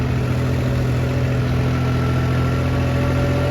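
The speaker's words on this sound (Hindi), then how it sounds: "हर सेकंड पर ट्रैक्टर फंस रहा है" Massey Ferguson or New Holland tractor engine stuck in muddy swamp ground, making a loud, steady, close diesel drone with constant low harmonic vibration throughout and no talk.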